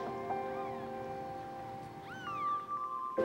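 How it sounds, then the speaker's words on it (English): Five small kittens mewing at a veterinary check, several thin, high, rising meows scattered over a few seconds, close and fairly soft with no talking. "I'm going to look at these 5 little kittens"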